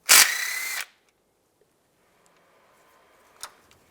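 Close, loud power-drill burst lasting under a second as it backs out a 10mm timing chain guide bolt on a 2007-2013 Chevy Silverado, followed by near silence and a faint click.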